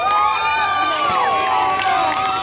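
A loud crowd at a lucha libre wrestling show cheers and shouts continuously, with whistles and high-pitched voices rising over a dense roar.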